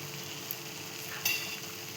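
Ghee dropped into a hot pan for a sweet milk dish, giving a soft steady sizzle with a couple of small clicks, quiet and close.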